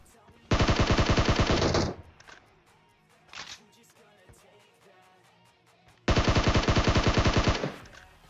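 Gunfire in the mobile battle-royale game PUBG Mobile: two loud, rapid automatic bursts, each lasting over a second, separated by quieter game sounds and a single shot in between.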